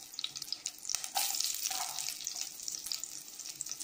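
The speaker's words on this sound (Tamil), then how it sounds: "சின்ன வெங்காயம் கொஞ்சம் சேர்த்துக்கலாம்." Small shallots frying in oil at the start of a catfish curry, giving a steady close sizzle with faint utensil clinks and stirring scrapes throughout.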